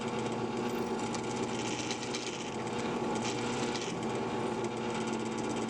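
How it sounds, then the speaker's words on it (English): A drill whines steadily and continuously, close up, while boring pinholes into stabilized rosewood scales for a mini cleaver knife. "here I'm drilling the pinholes into the scales"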